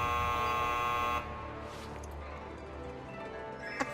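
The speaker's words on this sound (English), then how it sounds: "A buzzer, I think." In the Final Fantasy Mobius video game a buzzer sounds as a steady, harsh electronic tone that holds for just over a second and cuts off, followed by quieter ambience and a faint click.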